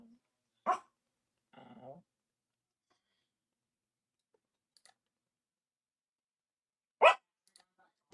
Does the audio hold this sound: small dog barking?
yes